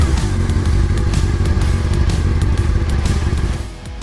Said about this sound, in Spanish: cada historia comienza con el rugido de un motor